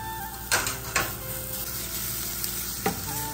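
Freshly grated coconut is stirred into onions frying in a pan, where a steady sizzle is broken by a few sharp scraping strokes of the spoon against the pan.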